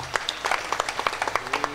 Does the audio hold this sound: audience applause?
yes